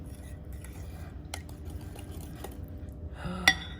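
Coconut oil is stirred into banana bread batter in a bowl, giving soft wet squelching and light clinks near the mic, ending with a sharper scrape or knock.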